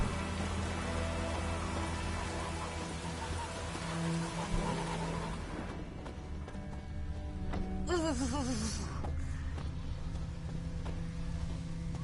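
Steady rain from a PS4 video game, pattering on surfaces as a constant hiss throughout, with a brief rising whine and faint rumbles over the downpour.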